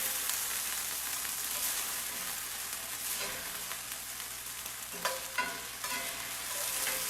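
Batches of beef for stroganoff sizzle steadily in a hot pan, a dense continuous frying hiss with a few louder scraping stirs and clinks midway through, no talking.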